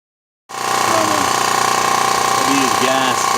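A small gasoline engine driving a water pump fires up after a brief silence and settles into a loud, steady running drone up close, with no one speaking.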